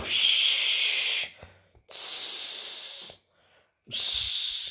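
A sleeping woman snores in three long, breathy, hissing rasps with short quiet gaps between them, close to the recorder in a quiet room.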